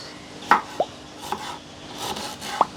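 Ginger being cut lengthwise with a knife on a board, a few separate sharp chopping knocks spaced irregularly, close and clear against a quiet background.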